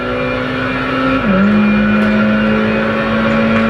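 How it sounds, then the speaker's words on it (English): Race car engine in Project Gotham Racing 2, a steady loud drone holding one pitch, dipping briefly as the car shifts and then settling again, with no talk over it. "The car sounds are really nice on this as well."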